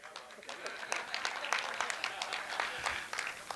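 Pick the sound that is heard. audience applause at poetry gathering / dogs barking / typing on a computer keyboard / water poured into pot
audience applause at poetry gathering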